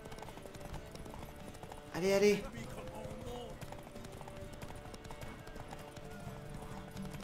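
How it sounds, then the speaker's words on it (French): Horse hooves gallop in The Witcher 3, a rhythmic clip-clop running steadily under excited French speech and game sounds, with a louder burst of voice partway through. "Mon cheval est plus rapide!"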